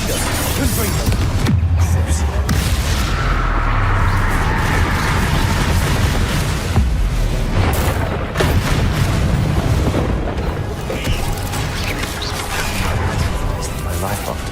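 Confringo blasting spell from Hogwarts Legacy, a loud continuous barrage of booming explosions and crashing combat noise with a voice shouting spell names over the din.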